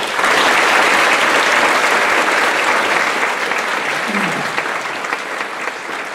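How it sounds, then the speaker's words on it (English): An audience at a university graduation ceremony applauds an award recipient. The clapping is loud, full and sustained from the start and eases off slightly near the end. "Let's give a round of applause for Melanie"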